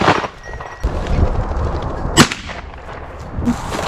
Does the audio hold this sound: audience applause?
no